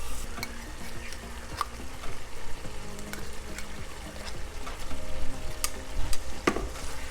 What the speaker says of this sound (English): And now I'll be adding in my tomato paste.